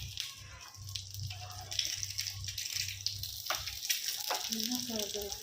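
A karandi omelette sizzles softly in groundnut oil in a small ladle, a faint steady frying hiss under a person talking.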